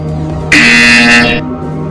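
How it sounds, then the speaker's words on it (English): A loud, steady electronic buzzer sounds for about a second over a quiet hum, then cuts off. "You will hear a buzzer."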